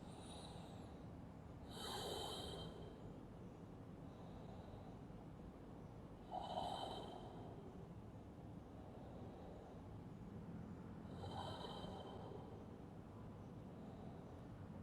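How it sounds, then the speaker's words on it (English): Slow, faint breathing during a yoga back stretch: three drawn-out breaths at long, even intervals over a quiet room hum, with no talking. "You could relax your head and simply breathe 6 times."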